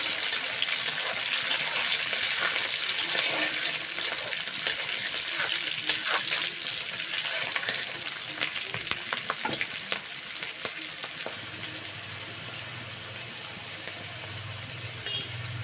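Chopped garlic and green chilli sizzle and fry in a pan, a steady close crackle with occasional stirring scrapes, quieting toward the end.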